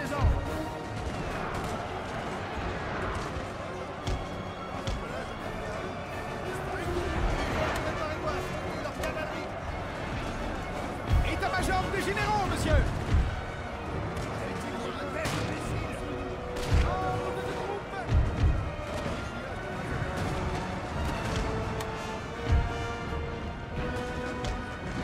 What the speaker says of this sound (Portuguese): a cavalaria tomando tiro aqui.